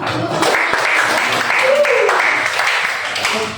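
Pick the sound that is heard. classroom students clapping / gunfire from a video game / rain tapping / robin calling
classroom students clapping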